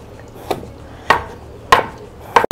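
Vegetables such as tomato, scallion and bell pepper being chopped on a board: four separate knife strikes spaced about half a second apart, close and fairly loud, with no talk.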